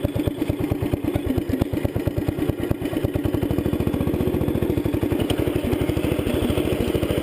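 A 1975 Sears Suburban ST16 lawn tractor engine runs close by with a loud, rapid, even chugging pulse and some mechanical clatter, holding steady throughout with no voices.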